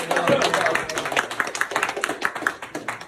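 Clapping from an audience at a leadership talk, starting as a dense burst and thinning into a ragged pattern of separate claps, with some voices mixed in.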